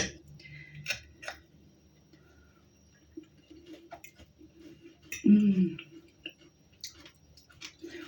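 Someone eats a salad with crunchy onion, egg and omelette, giving scattered soft crunching and chewing sounds up close between quiet pauses, with talk around them.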